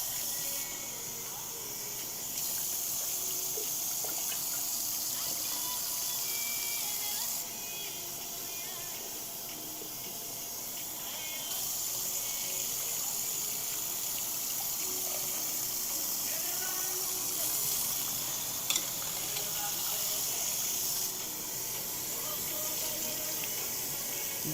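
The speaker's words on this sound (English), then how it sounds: "These seeds will be rinsed 3 times today." Water running from a tap to rinse sprouting seeds indoors, a steady soft hiss and splash that goes on throughout, fairly quiet and unbroken by voices.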